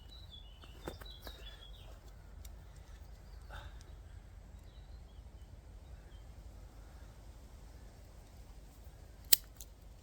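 Cutting down a pair of safety pins gives a few sharp, isolated metallic snips over a quiet background, with one louder, crisper snip near the end.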